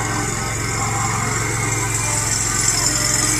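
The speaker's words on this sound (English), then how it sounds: "We're gonna take a little skit of her mowing the little section over here." A lawn mower runs steadily while cutting a small section of yard, its engine drone loud, close and unbroken throughout with no voices over it.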